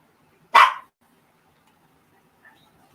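A single sharp dog bark, close and loud, followed by near silence with a faint distant yip.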